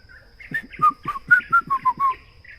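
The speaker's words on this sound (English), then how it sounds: "That's called a yellow-whiskered green bull." A yellow-whiskered greenbul sings a short series of clear, warbling whistled notes in a quick run, fairly close and loud against a quiet background, in Sigiria Forest, Nairobi, Kenya.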